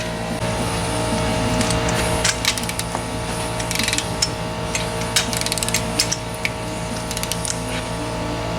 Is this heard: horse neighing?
no